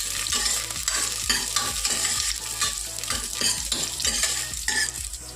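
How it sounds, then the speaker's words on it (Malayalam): Garlic cloves sauté in a hot pan for a squid roast, a continuous oily sizzle broken by rhythmic scraping strokes of a spatula stirring, close and fairly loud with no talking. "നമുക്ക് സോട്ട് ചെയ്ത് കൊടുക്കാം."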